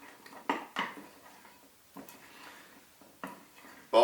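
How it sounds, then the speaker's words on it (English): Spoon stirring melting chocolate in a hot basin: a handful of soft, irregular scraping clinks against the basin, quiet and close, spaced unevenly with faint handling noise. "Stir it around so it all melts."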